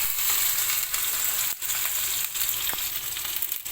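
Chopped onion and ginger-garlic paste fry in hot oil with a bright, continuous sizzle, broken by a brief dip and a few crackling pops.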